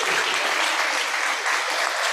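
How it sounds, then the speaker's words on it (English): An audience at a church service claps in sustained, dense applause, loud and continuous, with no talking over it. "I want everyone to applaud for Mary"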